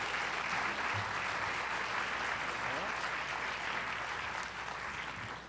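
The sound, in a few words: applause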